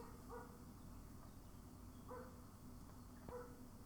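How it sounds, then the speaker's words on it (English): A dog barks in the distance outside a Scottish Open snooker semi-final venue, three faint, spaced yelps rising over a steady low room hum. "I say the dog's in full voice today"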